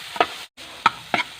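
A spoon stirring green chilli and vegetables in a pan for a vegetable omelette, a few sharp scraping taps spaced apart over a quiet sizzle, close up.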